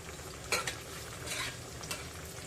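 Spoon stirring garam masala through a tomato fish curry in a pan, a few soft scraping clinks over a low, steady background simmer.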